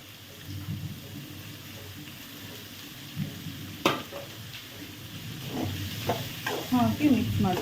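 Cashews, capsicum and spring onion stir-fry in hot oil in a pan for paneer fried rice, with a steady sizzle and scraping stirs that grow busier and louder toward the end, no voices.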